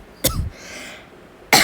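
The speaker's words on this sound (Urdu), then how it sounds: "مجھے کھانسی آ گئی۔" Two short, harsh coughs from a woman sound close to the microphone, about a second and a quarter apart, with quiet room tone between them.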